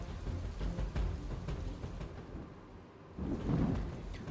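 Heavy rain falls during a thunderstorm that flooded low-lying areas of Kodinar in Gir Somnath, Gujarat, with a steady downpour hiss under deep rolling thunder that swells again near the end.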